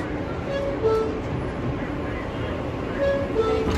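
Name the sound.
R-160B Q local subway train riding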